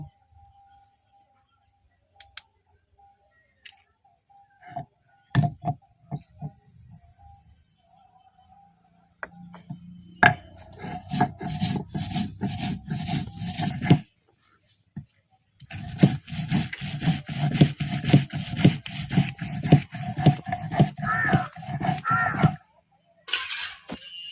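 Mustard seeds ground on a grinding stone, heard as scattered taps at first, then bursts of rapid rough scraping strokes, close and fairly loud, with brief pauses between bursts.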